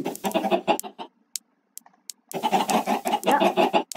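Video game chickens cluck and squawk in busy bursts, pausing briefly before a loud flurry of clucking resumes.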